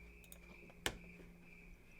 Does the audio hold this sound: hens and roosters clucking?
no